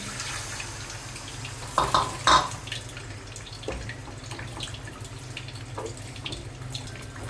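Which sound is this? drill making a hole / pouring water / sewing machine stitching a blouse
pouring water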